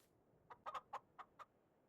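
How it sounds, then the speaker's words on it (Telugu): A rooster in the farming game Farming Simulator 23 gives a short series of about five clucking calls, moderately loud and spaced unevenly over a quiet background, with no talk. "చూసారా కోడి సప్పుడు ఎలా అయినా, అంటే కోడి అరుస్తున్నట్టు సప్పుడు ఎలా వస్తుందో"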